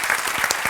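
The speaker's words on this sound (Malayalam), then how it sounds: "റിയ, എല്ലാവരും ഒന്ന് കൈയടിച്ചേ." A brief burst of hand clapping from a studio audience on a Malayalam game show, loud and dense for under a second.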